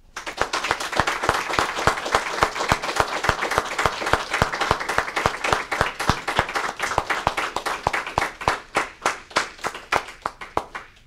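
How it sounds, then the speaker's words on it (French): Mourners at a funeral ceremony give warm applause that turns into rhythmic unison clapping, loud sharp even beats that hold a steady tempo, then spread apart and fade near the end, with no talk over them. "95 ans d'amour, bien, ça se mérite par une chaude main d'applaudissements."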